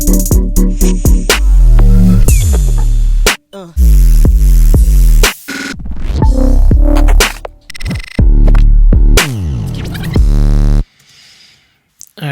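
Loud, gritty synth bass notes pulse and stutter in chopped phrases, layered with hissing noise, separated by abrupt cuts to near silence.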